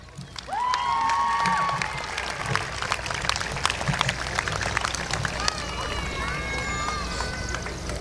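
An audience applauds and cheers graduates at a 2022 Celina High School graduation ceremony, a steady broad wash of clapping filling the hall for several seconds, with a voice speaking over the crowd near the start.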